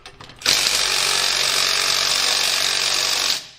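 A Milwaukee Stubby impact wrench hammers continuously on a seized, over-torqued bolt, one loud sustained burst of rapid rattling impacts lasting about three seconds after a brief quiet lead-in, with no talk.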